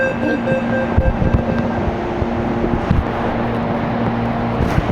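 A passenger train runs near Francisco Morato, its rumble steady and loud for several seconds with clattering wheel noise and a faint tonal hum. No voices are heard.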